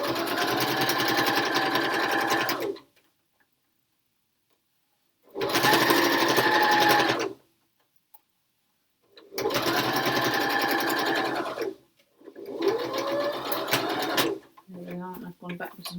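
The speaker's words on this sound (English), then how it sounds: "So we've got 4 thicknesses of fabric to sew through now" A sewing machine stitches through four layers of fabric for a face mask, running in three or four steady bursts of a few seconds each, separated by silences, with someone speaking at the end.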